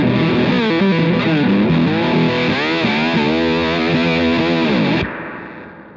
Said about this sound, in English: I don't know why I went to the bridge pickup.